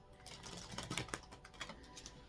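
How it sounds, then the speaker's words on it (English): A tarot card deck shuffled by hand in a short, close burst of crisp papery clicks and flutters, quiet and alone. "I'm going to shuffle just one more time for you guys."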